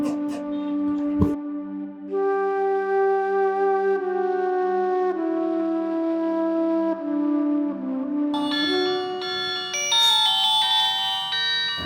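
An incoming call plays as a steady electronic ringtone melody of sustained tones for about twelve seconds, clear and fairly loud, growing brighter and busier near the end, with no talking.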